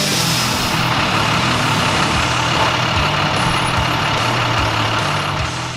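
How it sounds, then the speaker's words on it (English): School buses rolling into the Physical Education Complex parking lot at Jamestown Community College in early morning, a loud, steady diesel engine drone with rumbling idle pulses and a faint high hiss, close by and without talk. "buses rolled into the parking lot of the Physical Education Complex at Jamestown Community College"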